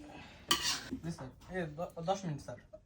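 A spoon scrapes and clanks in a very large commercial wok as vegetable khichuri is stirred, a sharp metallic scrape at first, then softer repeated stirring strokes.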